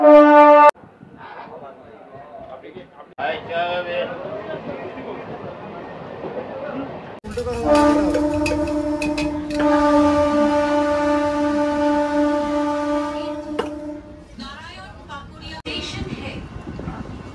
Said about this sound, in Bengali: এক্ষুনি ছেড়ে দিল আমাদের ট্রেন।